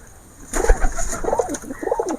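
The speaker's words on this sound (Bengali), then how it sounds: "আমার সব থেকে পুরানো জিরিয়া পায়রা তোমার দেখাবো" Jiria pigeons cooing close by, a few soft rolling coos in repeated bursts, low and throaty with brief pauses between calls.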